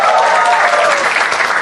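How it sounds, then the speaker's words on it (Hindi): A comedy show audience gives steady, loud applause for a comedian, with dense clapping filling the room, briefly and without pause. "एक बार जोरदार तालियां for him यार."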